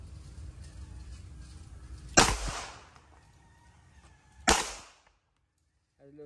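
Two sharp handgun shots, a Beretta 92 FS or Smith & Wesson 40 C pistol fired at a range, each a loud, close crack with a brief decaying tail, a couple of seconds apart.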